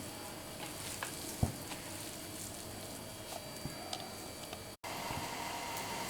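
Cabbage pakoda batter fries in hot oil, a steady soft sizzle and crackle with a few small ticks and pops, faint and continuous without talk.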